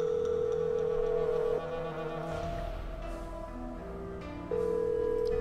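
Telephone sounds from the Nancy Drew video game: a steady dial tone, then quick touch-tone dialing of 911 with a short run of beeps, and the tone returning at the end, all clear and close.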